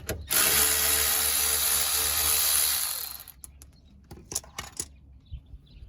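A power tool spins loosely for about three seconds while a 10 mm sensor bolt comes out on a Dodge Charger R/T 5.7 rear knuckle, then stops, leaving scattered metallic clicks and handling sounds.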